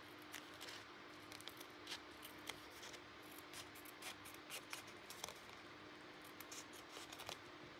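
Small scissors snip repeatedly at close range through junk mail envelopes, quiet crisp cuts coming in an irregular series against a faint background hum.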